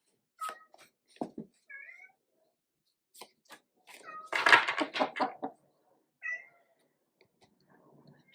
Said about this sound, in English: Jupiter the cat, very insistent on some attention now.